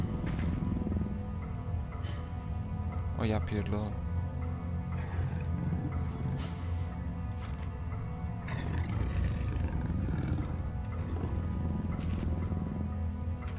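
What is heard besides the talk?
dog growling and roaring in the video game Penumbra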